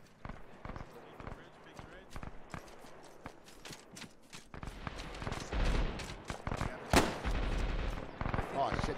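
Machine gun fire from a bunker in the video game Arma 3, an irregular run of sharp, loud bursts that grows denser and heavier toward the end, with voices talking over it.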